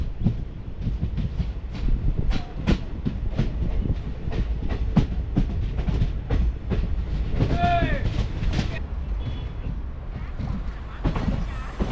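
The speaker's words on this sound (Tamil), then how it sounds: "இப்போது ட்ரெயின் இந்த கோழிக்கோடு ரயில்வே ஸ்டேஷனுக்குள்ளே தான் என்ட்ரு ஆகிட்டுருக்கு" Express train 12601 from Chennai to Mangalore rolls into Kozhikode railway station, its wheels clattering loudly and steadily over rail joints, with a brief squeal of wheels midway.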